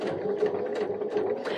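A sewing machine satin-stitching an appliqué letter onto terry towelling runs in a steady, close, continuous whir with rhythmic pulsing stitches, alone without talk.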